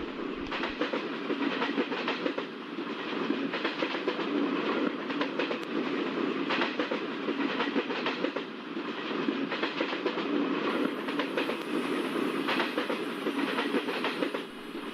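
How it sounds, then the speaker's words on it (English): A train of ICF coaches on the Nagercoil Express running steadily on the track, wheels clacking in a regular rhythm over rail joints under a constant rolling roar, close and loud throughout. "Enjoy the beautiful track sound of ICF coaches."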